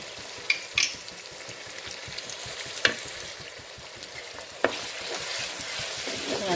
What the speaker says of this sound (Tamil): அடுத்து நம்ம இஞ்சி பூண்டு பேஸ்ட் அடிக்கணும்